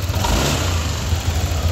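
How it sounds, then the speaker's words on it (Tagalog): Running engine of a Yamaha Nmax V2 scooter with a squeaking noise from the motor, a continuous close mechanical hum with faint high squeal over it, alone without talk. "So ito yung tunog kanina ng makina niya na may langit-ngit."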